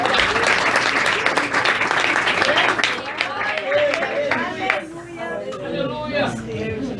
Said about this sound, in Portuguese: Aplaude o Senhor com ela